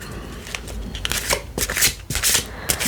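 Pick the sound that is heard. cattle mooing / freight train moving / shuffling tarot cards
shuffling tarot cards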